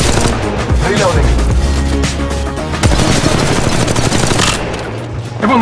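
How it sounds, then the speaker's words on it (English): Dense gunfire from an Apex Legends battle royale match, rapid bursts and volleys firing almost nonstop, loud and close, with game music and effects layered underneath. "Shots fired and they're hitting me."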